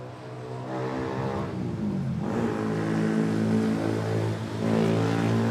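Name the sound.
ATR turboprop airliner taking off at Manila Airport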